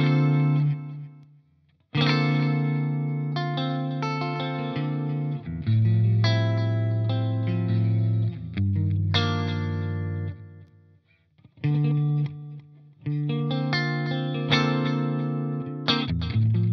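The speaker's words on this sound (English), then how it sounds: "Maybe this is too much delay for you." Electric guitar played through a ZUTA GBG120 rackmount amp with heavy delay, with chorus-like shimmer and distortion; phrases ring out loud and close, each swelling and trailing into echoes, with brief gaps between passages.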